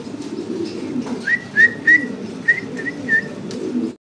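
Fancy pigeons at a pigeon exhibition give a string of short, clear calls over a low, steady cooing murmur, with about six distinct notes spaced through the middle of the clip.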